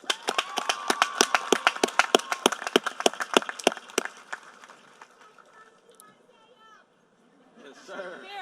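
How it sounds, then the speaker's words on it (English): Graduation ceremony audience clapping, a sharp, close run of distinct claps in a brisk rhythm for about four seconds, then fading into quieter room sound with voices talking. "Please give these students a round of applause."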